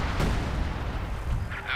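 Continuous wartime gunfire and artillery rumble from a Company of Heroes 2 match, a dense, steady battle din with a few sharper bursts.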